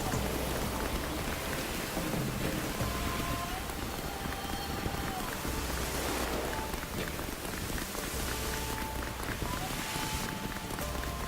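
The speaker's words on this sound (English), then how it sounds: "It's drizzling." Light rain in The Witcher 3 patters steadily as a dense hiss of drops, with faint tonal sounds drifting through and a voice speaking quietly beneath the continuous wash.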